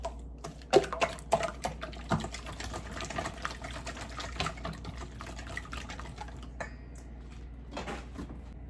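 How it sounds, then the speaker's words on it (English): An egg being whisked in a bowl makes a rapid, busy patter of light clicking taps, close and soft, continuing for several seconds without speech. "we're gonna give the egg a little whisk. Just breaking it down a little bit."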